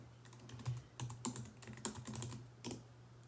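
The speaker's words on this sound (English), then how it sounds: "I'll type it in here" Typing on a computer keyboard into Inkle Writer, a quick irregular run of soft key clicks over a few seconds, quiet and close, with no voice.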